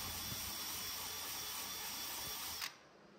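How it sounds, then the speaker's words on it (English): Polishing wheel spinning against stainless steel tubing, a steady, close, high-pitched whine that runs continuously, then cuts off abruptly near the end. "So I backed up to the spot where I polished with the blue wheel and tried to feather in those marks a little bit."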